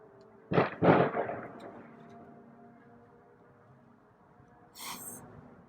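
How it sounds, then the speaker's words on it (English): Two sharp, loud firecracker bangs in quick succession echo and fade, followed a few seconds later by a fainter crackling pop. "Somebody's setting off some firecrackers."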